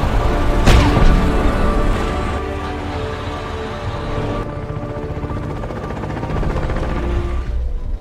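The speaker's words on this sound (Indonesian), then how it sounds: "keduanya mendengar suara tembakan meriam tank yang terjadi dari kejauhan" A deep tank cannon boom rolls out early, then a steady low rumble of distant heavy fire continues, muffled and far away, with no voices.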